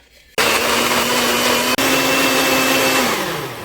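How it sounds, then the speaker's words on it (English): A kitchen blender whirs loudly and steadily as it purees green enchilada sauce, with a brief dip partway through before the motor winds down at the end. "I'm gonna blend everything in the blender"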